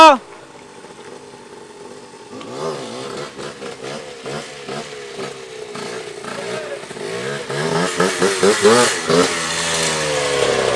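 Motorbike engine idling and then revving harder, a buzzing mid-range drone that builds in loudness and pitch toward the end, with people talking over it.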